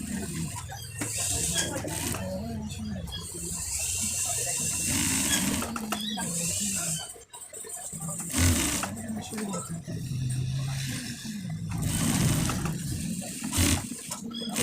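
A sewing machine runs in bursts while stitching the pocket of a panjabi, its rapid clatter rising and pausing, with a person talking in between and over the stitching.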